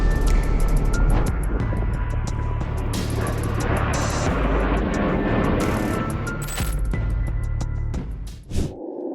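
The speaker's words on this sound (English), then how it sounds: "A fighter jet takes off with great force in El Centro, California, leaving a thunderous roar and a cloud of dust in its wake." A fighter jet takes off in El Centro, California, with a loud, continuous thunderous roar that holds steady, then drops away abruptly near the end.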